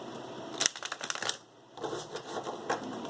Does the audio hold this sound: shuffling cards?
yes